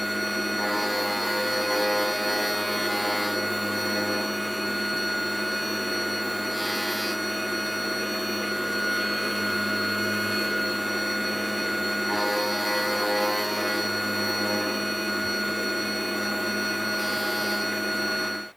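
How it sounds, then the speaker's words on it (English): A milling machine cuts a 1946 Madewell 49 spark ignition engine backplate flat, a continuous loud whirring drone with steady tonal hum and periodic scraping bursts throughout. "So I'll get that milled now."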